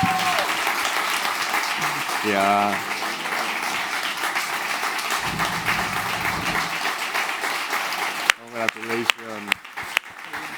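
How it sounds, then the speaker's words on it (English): Applause from an audience at an innovation and social inclusion awards ceremony on an outdoor stage, steady clapping for about eight seconds that thins into a few scattered claps, with a brief voice heard over it. "Big applause"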